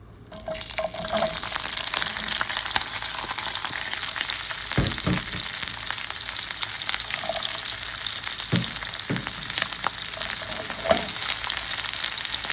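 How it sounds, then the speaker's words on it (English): Vegetables sauteing in hot oil for a lamb head soup. After a quiet start, a strong, continuous sizzle rises, with stirring clatters and pan knocks scattered throughout. No one speaks. "I'm just sauteing them to give them a little bit of color and caramelization so they're nice and sweet."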